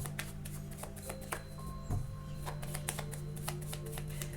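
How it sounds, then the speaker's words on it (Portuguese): Tarot cards being shuffled by hand, a run of quick, soft riffling snaps and slides close by, evenly spaced and fairly quiet, with no talking. "Você vai embaralhar e você vai sentir o momento certo de parar"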